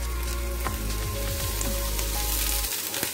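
Cabbage strips sizzling in olive oil in a pan: a loud, continuous frying crackle with a low rumble underneath and a few soft clatters as the vegetables are stirred in.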